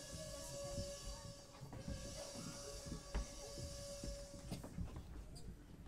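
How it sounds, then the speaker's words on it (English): A long, steady train whistle tone sounds over low rumbling and clattering rail noise, fairly faint and distant. "Hear that train whistle, sounds of change."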